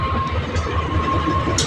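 Cargo train hauled by a CC203 locomotive rolling past, a steady loud rumble with a sustained tonal hum and brief higher hiss bursts, continuous and close throughout.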